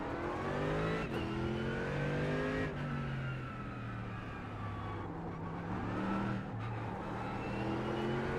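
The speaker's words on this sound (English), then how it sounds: "Driving the Mercedes 2020 AMG EVO." A 2020 Mercedes AMG GT3 EVO race car engine in iRacing at Suzuka revs hard, rising in pitch through the gears with sharp drops at each upshift, loud and continuous throughout.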